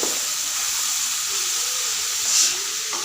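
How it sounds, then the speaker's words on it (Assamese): Ginger, garlic, onion and curry leaves sizzle steadily in hot oil, a continuous close hiss that holds even throughout, with a brief brighter spit of sizzle near the end. "আদা নহৰু পিঁয়াজ দি দিছোঁ আৰু তাৰপিছতে নৰসিংহ পাত কেইটামান দি তেল মাৰি দিছোঁ"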